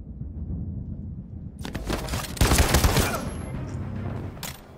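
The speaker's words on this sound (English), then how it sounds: "Nice shot, Connor." Gunshots in Detroit: Become Human ring out in a sudden loud burst of rapid shots after a quiet lead-in, followed by a fading echo and one last sharp crack.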